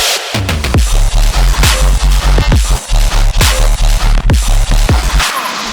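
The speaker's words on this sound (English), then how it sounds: "So you can hear it's like a nice fat chunky bass thing" A fat, chunky bass riff is programmed in FL Studio and played alone, without its upper layer a third above, as a loud, punchy run of rapid repeated low notes with hard attacks.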